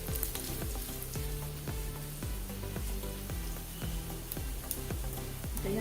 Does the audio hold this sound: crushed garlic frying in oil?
yes